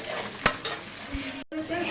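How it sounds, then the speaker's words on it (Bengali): Onions fry for a fish curry at a family picnic, a continuous loud sizzle broken by clinks and scrapes of a utensil against the pan and a brief pause. "আমি ওইদিকে মাছের জন্য ভাজছি পেঁয়াজটা"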